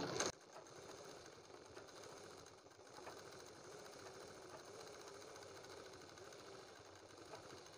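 Domestic sewing machine running steadily while stitching the neckline of a kurti, a continuous mechanical whir with a brief louder burst at the start, alone without talk.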